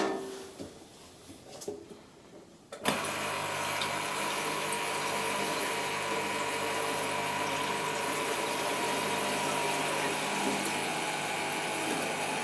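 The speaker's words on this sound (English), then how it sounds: "there's more than enough fluid being pumped through it" A liquid pump forces fluid through a system and starts abruptly after a few seconds of quiet handling, then runs as a steady, powerful, even whoosh and hum without a break.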